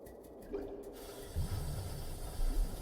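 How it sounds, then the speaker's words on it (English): Cold-water faucet running in the Secret Files Tunguska video game, a steady rushing water stream that starts after a brief pause and continues with light splashy gurgles, close and moderately loud. "A water faucet for cold water."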